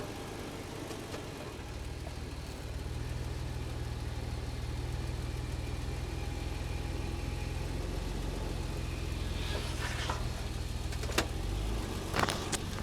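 An off-road car running low tire pressure idles, then its engine rises to a steady, sustained drone as it climbs up a rock, with brief clicks and knocks near the end.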